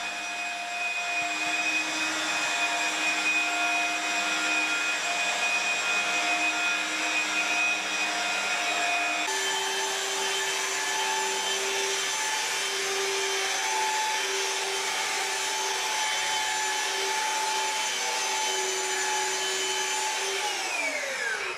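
Steady whine of a rotary polishing machine working car paint to remove holograms, running continuously and close, with a shift in pitch partway through and a drop near the end; no talking.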